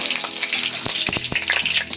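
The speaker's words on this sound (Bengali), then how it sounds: "শুকনো লঙ্কা আর গোটা জিরে ফোড়ন দেব" Bay leaf, dried red chilli and whole cumin crackling in hot oil left from frying lentil fritters: a dense, close sizzle with bubbling pops and a few stirring knocks, steady for two seconds without speech.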